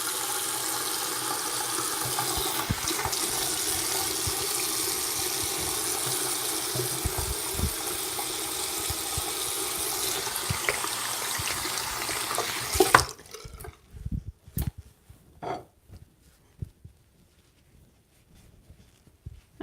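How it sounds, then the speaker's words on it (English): A bathroom or kitchen tap runs steadily as hands are washed under it for about thirteen seconds, then shuts off, leaving faint drips and small clunks in a quiet room. "Wash these off my hands."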